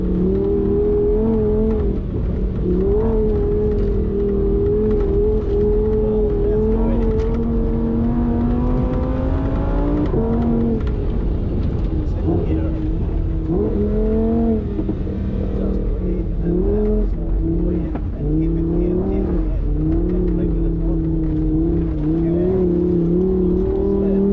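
A Lamborghini Huracan Sterrato engine roars steadily and loud throughout, its pitch rising and falling through gear changes as it accelerates hard.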